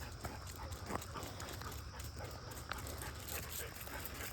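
Dogs whimpering near a lake dock on a morning walk, soft intermittent whines under steady outdoor ambience, with a person coaxing them at times.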